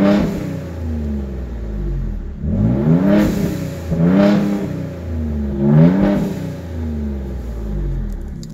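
A 2018 Ford Raptor with aftermarket modifications, its engine idling loud and close, then blipped through three short low revs that swell and drop back, each separated by a second or so of rumbling idle.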